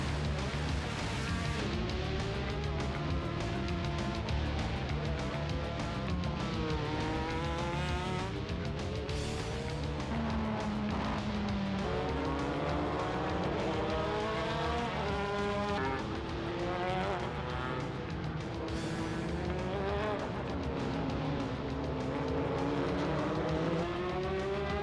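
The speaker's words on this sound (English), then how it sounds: "the cars are passing by me here on the front straight" Japanese Grand Touring Championship race cars, GT500 and GT300 classes, roar along the front straight, loud and continuous with rising and falling engine pitch as multiple cars pass in succession, no talk.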